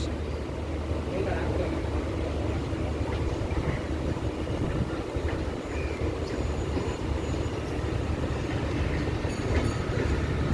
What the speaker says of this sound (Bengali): লোকাল ট্রেন পাস করছে আমাদেরকে, ক্রসিং করছে